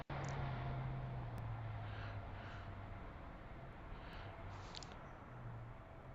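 A jet airliner rolls down the runway for takeoff at Heathrow as a steady distant engine rumble and roar, with a faint low tone drifting along underneath.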